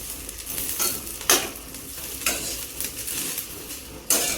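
Garlic sizzles and fries in hot oil in a pan, a steady close crackle with several louder bursts as it is stirred, no voices.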